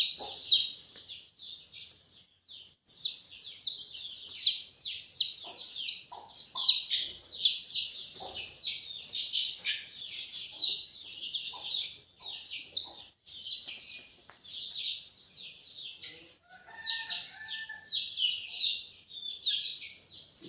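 Baby chicks of free-range village hens gathered at a water setup keep up a steady stream of high, thin cheeps and peeps, many overlapping close by with no talk.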